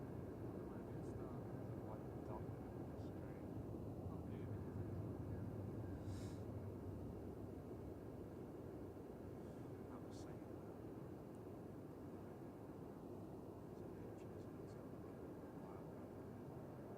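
A large A380 airliner climbs away with its gear up on departure for Dubai, a broad low rumble of jet engines that holds steady and fills the background.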